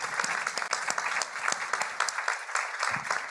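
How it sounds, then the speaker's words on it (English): A conference audience applauds a panel at the close of a keynote session on health system performance, with steady, dense clapping filling the whole stretch without pause. "So please join me for a rousing round of applause for this incredible panel."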